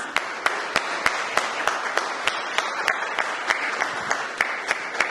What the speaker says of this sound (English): I would like to thank the artists, the 16 wonderful artists. A round of applause for you, please.